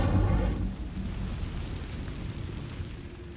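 Incendio fire spell cast in the video game Hogwarts Legacy, a deep rumbling whoosh of flame that is loudest at the start and then fades into a steady, low roar.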